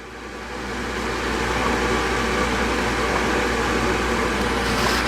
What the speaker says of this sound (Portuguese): esse barulho aí é a chaleira aqui chiando